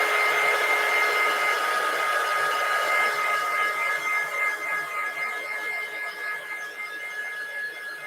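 Hair dryer blowing steadily to dry chalk paint on a Dollar Tree St Patrick's Day craft, a continuous close whirring hiss with a faint whine that holds level throughout without talk.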